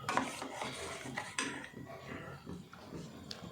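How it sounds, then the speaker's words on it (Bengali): A metal kadai is set onto a gas stove in a home kitchen, with clinks and scraping rubs of metal against the burner grate, several quiet knocks spread over a few seconds. "এবার আমি গ্যাসে একটা কড়াই চাপাবো আর তেলটা গরম হতে দেব"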